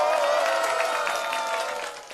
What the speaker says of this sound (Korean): 기자분들한테도 박수 한번 보내주세요